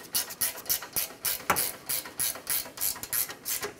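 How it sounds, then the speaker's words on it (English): A ratchet threads a mounting bolt into the A/C condenser of a 2009-2013 Honda Fit, giving a steady run of quick, crisp clicking strokes at close range with no talk. "Let's thread in the mounting bolt."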